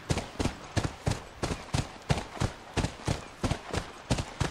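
Horse hooves clip-clop at a steady trot in The Last of Us, about eleven sharp, evenly spaced hoofbeats, close and clear with no talk over them.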